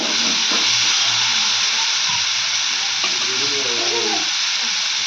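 Tomatoes dropped into hot oil in a pan for a baby potato curry give off a steady, loud sizzle and hiss throughout, with faint stirring noises in the background.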